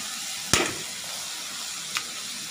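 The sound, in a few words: stirring food frying in a pan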